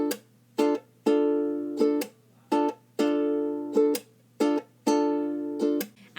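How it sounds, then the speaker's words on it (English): Ukulele strummed alone in a repeating pattern of plucks, upstrokes, slaps and quick mutes, bright chords ringing in short bursts separated by abrupt silences, close and clear. "you pluck all your strings, strum up, slap, and then pluck all your strings again, and then quickly mute it"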